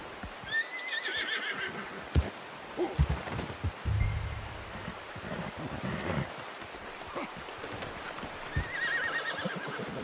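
Horse hooves clip-clop unevenly while a horse neighs a couple of times, with outdoor ambience and scattered thuds around them, in the video game Red Dead Redemption 2.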